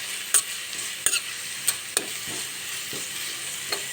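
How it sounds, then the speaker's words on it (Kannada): Fenugreek leaves fry in two tablespoons of oil and one of ghee for dhaba-style lasooni methi. A soft sizzle runs underneath as a spatula scrapes and taps the pan in irregular, distinct strokes. "ಇದನ್ನೀಗ ಸ್ವಲ್ಪ ಫ್ರೈ ಮಾಡ್ಕೊಳ್ಳೋಣ."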